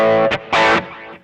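Electric guitar played through an AC-style amp tone, a Bluesbreaker overdrive and reverb and delay pedals, giving two short distorted chord stabs that ring out briefly before fading into a reverb tail, close and loud, with no voice.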